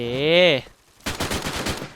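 A tonal electronic tone fades to a brief pause, then a rapid burst of automatic gunfire in the game Free Fire rattles in quick succession, game-like and close.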